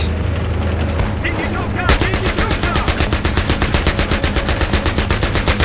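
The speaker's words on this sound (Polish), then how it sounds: "Wow, ale piękny strzał. Kabum." Gunfire in the Battlefield 3 video game during an armored raid, a loud, rapid automatic weapon firing a sustained burst of evenly spaced shots after a brief muffled lead-in, with heavy low-end rumble.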